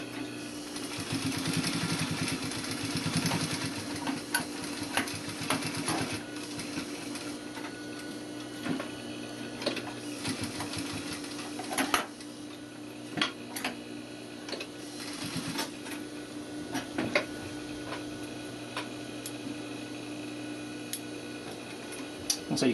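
A sewing machine edge-stitches around a pocket welt on a blazer, running in a steady close hum with intermittent ticks and small changes of speed and no talk over it.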